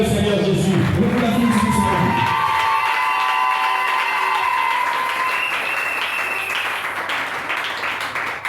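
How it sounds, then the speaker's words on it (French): A church congregation bursts into loud, sustained cheering and clapping in acclamation of Jesus, with shouts and whoops rising over dense applause that carries on throughout. "Acclamez le Seigneur Jésus."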